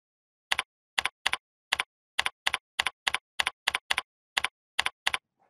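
Keystrokes on a computer keyboard typing a short name into a text box, a sparse run of crisp clicks in small bursts with brief pauses between them, close and isolated with no voices.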